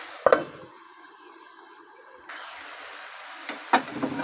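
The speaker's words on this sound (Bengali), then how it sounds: "ভালো করে নেড়ে চেড়ে ঢেকে দিব ঢেকে দিচ্ছি" Pumpkin flower fry with egg is stirred in a pan: a couple of quick scraping knocks at the start, a soft sizzle rising midway, then more close spatula scrapes near the end.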